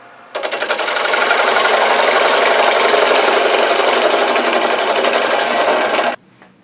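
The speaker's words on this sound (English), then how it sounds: "now I'm going to use a bowl gouge and just waste away some of this middle" A bowl gouge wastes away the middle of a wooden medallion ornament spinning on a lathe, a loud, steady rasping whir that starts abruptly, holds for about six seconds alone, then cuts off.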